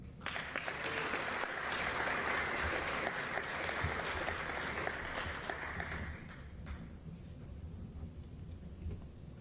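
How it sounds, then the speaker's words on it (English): A crowd at a military retirement ceremony applauds, a sustained wash of clapping that holds steady and then gradually tapers off. "let's give the retirees and their family members a big round of applause"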